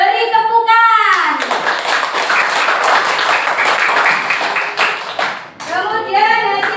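Children in a classroom clap together for group 1, a loud burst of many small hands lasting several seconds, with a voice speaking before and after the clapping.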